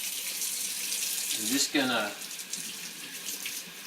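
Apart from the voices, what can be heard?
water running from sink tap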